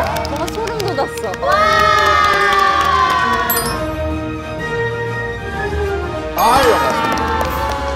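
A studio crowd breaks into loud applause and excited cheering at a MapleStory and BLACKPINK collaboration variety show, swelling in two bursts with whoops over a busy background.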